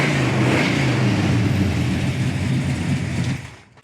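A 1970 Dodge Super Bee hardtop's V8 roars loud and close in a sustained rev, holding steady rumble before cutting off abruptly near the end.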